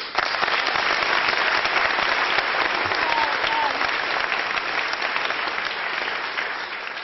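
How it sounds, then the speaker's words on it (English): A conference audience claps loudly and steadily for a speaker, a dense, even wash of applause filling the room for about seven seconds before easing slightly at the end. "Please give her a warm round of applause."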